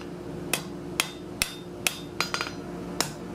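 Hammer blows on a hot steel scarf at the anvil while tapering it for a forge weld, about eight sharp ringing strikes at irregular spacing, a quick cluster near the end, over a low steady hum.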